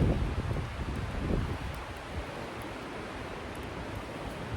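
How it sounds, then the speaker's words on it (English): Wind blows outdoors across an ethanol burner stove, a steady, soft rushing hiss with faint gusty rumbles, continuous and fairly quiet. "Wind's definitely blowing the ethanol burner now."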